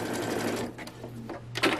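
A sewing machine stitches a patch onto old jeans, its motor whirring in a steady, continuous run of rapid needle strokes, close and fairly loud throughout.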